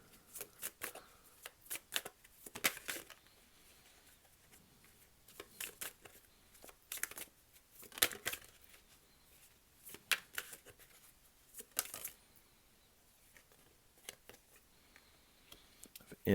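Tarot cards shuffled by hand, in repeated soft riffling bursts and flicks at close range, fairly quiet and irregularly spaced with brief pauses between.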